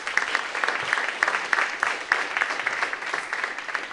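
Steady applause from an audience for a discussion panel at a church event, dense and continuous clapping with no talk for the whole stretch.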